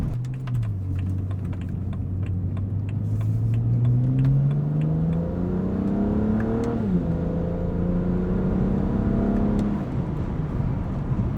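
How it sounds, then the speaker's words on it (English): A BMW 135i engine accelerates, its tone climbing steadily through the gears with a brief shift midway, while light rapid clicking runs over the top. "Car sounds as good as ever."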